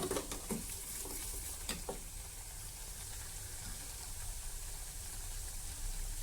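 Homemade herbal hair oil sizzling and bubbling in a pan on the stove, a steady close frying hiss with a few brief stirring scrapes near the start, then continuous even crackle with no talking.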